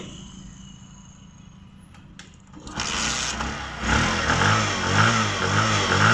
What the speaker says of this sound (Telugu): ఇప్పుడు చూడండి బండి స్టార్ట్ అయిపోతుంది